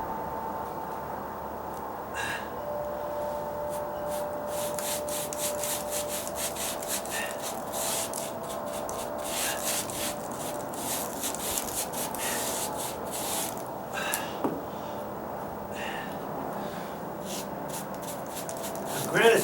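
A paint roller goes over a sandy stucco patch, giving a continuous gritty rubbing close by with rhythmic rasping strokes. A voice speaks briefly partway through.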